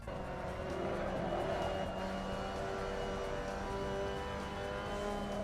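Mazda MX-5 Cup race car in Assetto Corsa cornering on Kazan Ring, a steady loud engine drone with tonal harmonics held throughout, no clear tire squeal, continuous and close.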